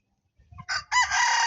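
Gamecock rooster crowing close by, a short clucking lead-in rising into a loud, sustained cock-a-doodle call with no voices.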